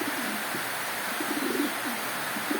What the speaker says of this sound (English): My birds are here.